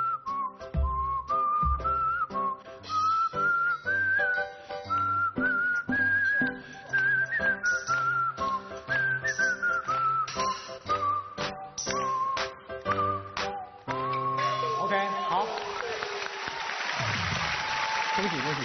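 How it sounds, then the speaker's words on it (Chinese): A person whistles the simple children's tune Two Tigers on a TV variety stage, a clear melodic line carried over a backing track, ending with a burst of audience applause. "我们要吹口哨了"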